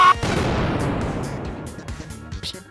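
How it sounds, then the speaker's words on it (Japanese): A house blowing up in the online social deduction game Feign: a sharp blast opening into a dense, rumbling crash of debris that rolls on loudly and slowly fades, with scattered clatter near the end. "寝てたら家が爆発した音がした"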